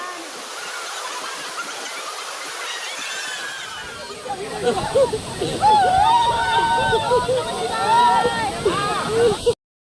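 At a waterfall, steady rushing water is joined by sloshing and splashing as a group drenches a man, with excited voices talking and shouting over the water.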